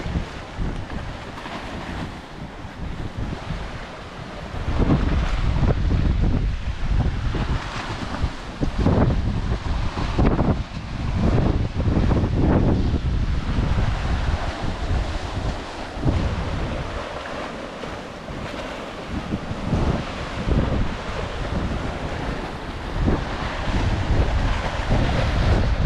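Ocean waves surge and crash into the rocky Devil's Churn on the Oregon coast, a loud, continuous roar of surf thickened by heavy wind buffeting the microphone, swelling in waves of churning water with no voices.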